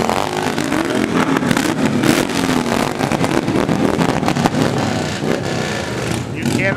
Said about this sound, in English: Cannot mistake the sound of a Harley-Davidson revving up.